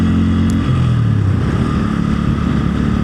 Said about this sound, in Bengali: 6টি বাইক আমরা যাচ্ছি